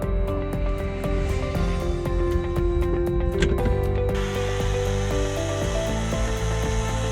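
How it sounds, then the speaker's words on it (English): A steady, loud mechanical engine drone runs throughout, with a sharp rise in high-pitched buzz partway through, like a chainsaw revving. "Nate had recently gotten this chainsaw for his birthday, so it came in real handy."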